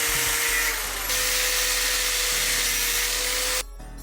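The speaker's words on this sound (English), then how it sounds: "I bought a rod of steel here, threaded steel, as you can see, like a bolt, and I'm going to cut every 6 centimeters." A power tool cuts through threaded steel rod into 6 cm pieces, a steady loud high-pitched grinding whine that holds for several seconds before stopping abruptly near the end.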